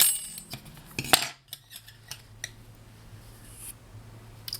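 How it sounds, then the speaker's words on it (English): Scissors snip through crochet yarn after fastening off a chain, one crisp cut standing out near the start, followed by faint handling rustles and light clinks in a quiet room. "cut the yarn"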